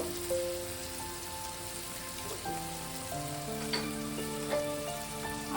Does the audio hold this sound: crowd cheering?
no